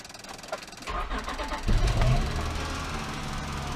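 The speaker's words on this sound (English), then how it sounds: "start the car" A 2003 Acura CL Type S engine cranks briefly, then catches and settles into a steady idle, heard close and moderately loud.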